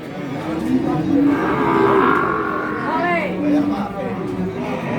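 Cattle moo loudly and close at a livestock market in Tuban, with long, drawn-out calls that bend in pitch over the chatter of people nearby.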